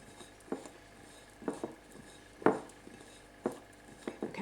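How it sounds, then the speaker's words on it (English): A spoon stirs food colouring into homemade bath bomb mixture in a bowl, making quiet, evenly spaced taps and scrapes roughly once a second in a hushed room. "Just add a drop and mix that in."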